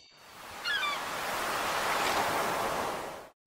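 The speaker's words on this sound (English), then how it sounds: "Just want to spend most of your day fishing and relaxing to the sounds of an ocean?" Ocean waves from the video game Stardew Valley wash in as a steady, broad surf roar that swells and holds for about three seconds. A few faint bird-like chirps sit near the start, and no one speaks.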